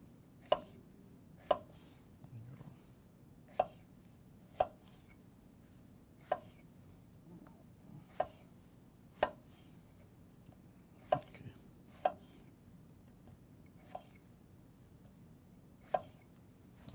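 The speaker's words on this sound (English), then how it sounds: "Remember I told you guys we're going to do a lot of chopping today?" Sharp knife chops on a cutting board cutting fruit, about a dozen crisp strikes at an uneven pace with short pauses, close and clear over a quiet room.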